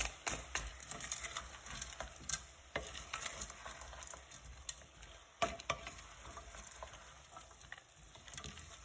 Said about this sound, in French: Je mélange aussi comme ça.